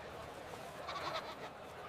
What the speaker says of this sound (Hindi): ये हमारा कुर्बानी का बकरा है।